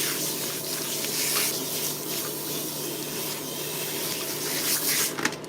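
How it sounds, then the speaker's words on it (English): Water sprays steadily from a showerhead or faucet as a woman's hair is rinsed of excess product and oils on wash day, a continuous hissing wash with slight shifts as the stream moves through the hair. "what we're going to start off by doing is rinsing out any excess product, oils, whatever that is in her hair"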